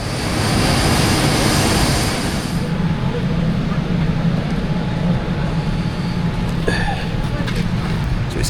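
Inside a Boeing Dreamliner airliner, a loud, steady cabin roar of engines and rushing air fills the space without letting up, with faint background sounds mixed in.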